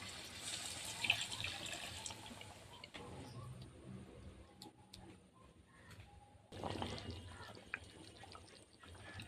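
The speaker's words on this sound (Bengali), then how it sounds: "এবার দিয়ে দেবো কিছুটা পরিমাণে জল।" Water pours into a pan of Hyderabadi chicken curry during cooking, a close, steady splashing and trickling that shifts in strength over several seconds, with faint kitchen clatter and no talk.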